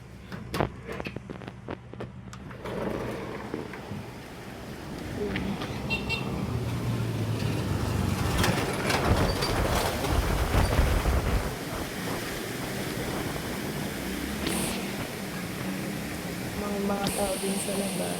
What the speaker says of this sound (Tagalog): tignan nyo kung gaano kalakas ng hangin sa labas